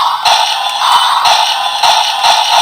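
A DX Breakam Breaker toy from Kamen Rider Zeztz plays its Knuckle mode sound effect, a loud, bright electronic burst with sharp repeated hits and crunchy impact-like accents over about two and a half seconds, with no talking.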